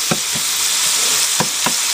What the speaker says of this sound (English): Throw in my ground beef.